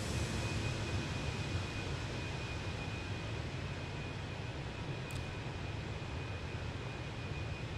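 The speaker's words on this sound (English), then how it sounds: "It's Transavia 737" A Transavia Boeing 737 passes by in Microsoft Flight Simulator as a faint, steady jet roar that holds evenly without a clear rise or fall.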